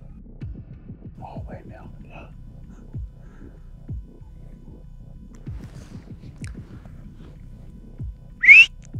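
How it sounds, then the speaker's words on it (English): A person whistles to make resting antelope stand up during a plains game hunt in South Africa: one short, sharp whistle near the end, over a low rhythmic throbbing and faint background sounds. "we can whistle and maybe they respond to it"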